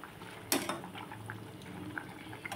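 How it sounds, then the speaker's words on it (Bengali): A pot of vegetable curry bubbles on the stove, soft continuous simmering and popping with a brief louder splash near the start, close and fairly quiet. "এটা তো এখন ফুটছে, আর একটু হবে দেখে মনে হচ্ছে"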